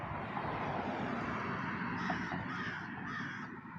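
A crow cawing outdoors, a few harsh calls over steady wind or background noise, fairly faint and distant.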